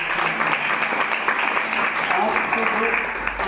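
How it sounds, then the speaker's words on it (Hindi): A church congregation claps together during a Hindi sermon, a dense continuous burst of applause lasting a few seconds while a voice speaks over it. "ताली बजा।"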